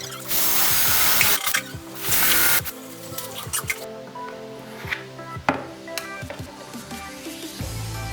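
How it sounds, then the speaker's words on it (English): A power drill bores holes into an acrylic board, loud whining bursts of drilling separated by short pauses and clicks, with rattling and handling noises between passes. "mark the places where we are going to drill."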